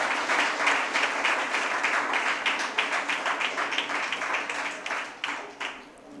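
Audience applause at a nutrition awareness seminar, a dense wash of many hands clapping steadily, loud and close, tapering off near the end.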